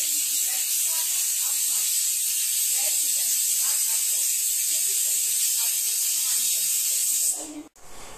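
A pressure cooker holding chana dal and soybean curry lets out a loud, sustained hiss of escaping steam up close for several seconds, then cuts off abruptly near the end.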